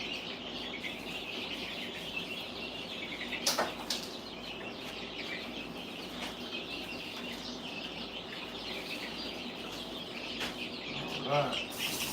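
Baby chicks peeping softly in a brooder, a continuous faint high chirping with a few brief louder flutters and knocks, no talk.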